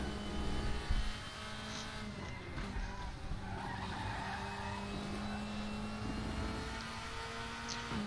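Front left tire locking up and skidding on a Mercedes CLK 2003 DTM car at Watkins Glen in a sim racing game, a faint squeal over steady engine drone, with a louder bump near the start.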